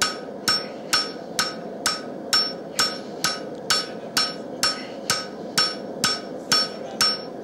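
Light hammer forging a utility knife blade, about fifteen sharp metallic strikes in a steady, quick rhythm, loud and close, each ring decaying briefly over a low background hum, no speech.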